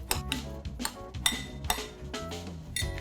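Spoon clinking and scraping in a bowl while chili powder, turmeric, salt and green coriander are mixed, a run of irregular metallic taps and clinks at close range, fairly soft, with no talking.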